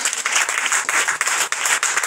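A church congregation claps steadily and loudly, a dense burst of applause with slight surges throughout.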